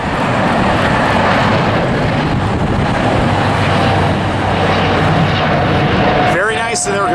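An airliner in Alaska Airlines salmon livery takes off at LAX, a loud, sustained roar of jet engines close by, with a brief chirping sound near the end.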